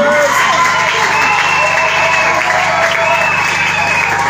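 A crowd at a religious gathering claps steadily and loudly throughout, with scattered cheers and voices blending into the continuous applause.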